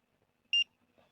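A single short electronic inactivity beep from a Fimi X8 drone controller sounds clearly in near silence, sharp and high-pitched, then fades out.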